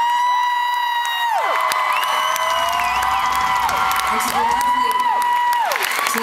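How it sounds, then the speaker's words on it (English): Concert hall crowd at a show in Austin cheering and clapping, with loud whoops and shouts and sustained sung or yelled tones rising and falling over the applause. "please give a huge, huge, huge, huge round of applause"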